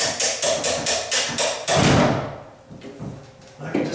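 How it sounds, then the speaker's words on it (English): A hollow-core six-panel raised door gives a hollow clunk and thud as its top hinge pin comes out, following a series of rapid knocks, with a few lighter bumps after. "Once I take that top pin out, I know the door's going to go clunk."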